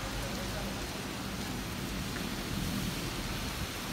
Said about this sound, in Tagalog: Ulan lang daw to.